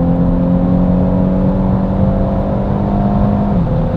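A Renault Megane Estate GT with a 1.6 TCe engine and EDC7 dual-clutch gearbox pulls hard in third gear, its engine drone climbing steadily and loud before a brief dip near the end.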